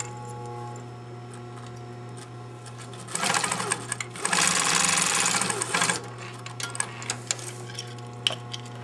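A sewing machine stitches a seam, a loud rapid whirring run lasting about three seconds amid a constant low motor hum, followed by scattered clicks and taps.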